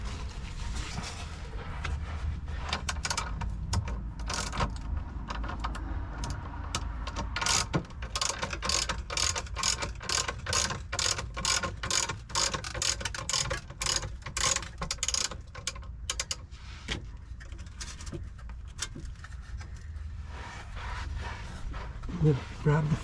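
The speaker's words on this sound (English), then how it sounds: "maybe I can start jacking it, lowering it, and it'll come out" A jack ratchets while lowering an AGM battery tray on a Winnebago Solis 59PX RV, making a long series of rhythmic metallic clicks that run for most of the stretch over a low background hum.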